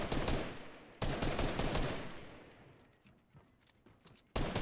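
Rapid bursts of gunfire in a Fortnite battle, loud dense volleys cutting in and out with a quieter, sparser stretch of shots in the middle before another loud burst.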